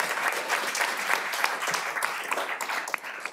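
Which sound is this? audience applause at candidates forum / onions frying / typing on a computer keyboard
audience applause at candidates forum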